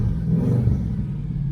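A 1982 Chevy El Camino engine running rough, a close, steady low rumble with a slightly uneven idle throughout.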